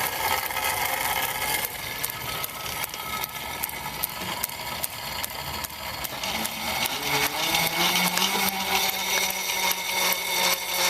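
A Freemotion S11.6 indoor cycle's flywheel spins up, giving a steady whirring drone whose pitch rises toward the end, loud and close with no talk.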